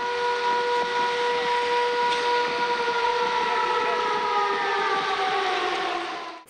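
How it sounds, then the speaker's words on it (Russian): Public emergency warning sirens wail across the city of Penza during a civil defence drill, a loud sustained tone with overlapping sirens holding steady before cutting off at the end, with no talking. "в Пензе заработала система оповещения населения при чрезвычайных ситуациях и стихийных бедствиях"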